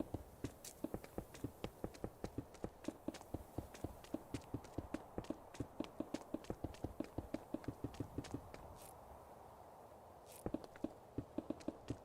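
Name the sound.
footsteps in a video game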